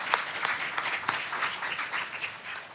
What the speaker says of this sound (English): I would like us all to please give the staff a huge round of applause.